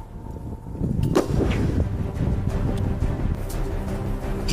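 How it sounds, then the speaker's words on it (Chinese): A sniper rifle shot during a counter-terror assault drill by China's Snow Leopard Commando Unit in a wooded area, a single sharp crack just after one second, followed by wind and rumbling outdoor noise, no voices. "声狙击枪响后"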